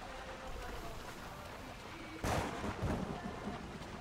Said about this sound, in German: Alter, dieses Unwetter ist echt geil gemacht.